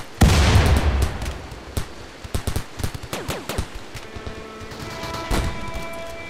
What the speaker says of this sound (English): That's a frag grenade.